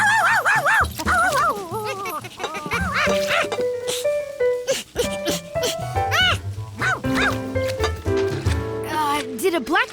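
A cartoon dog barks and yips in short bursts over busy animated music, with a monkey character also in the scene.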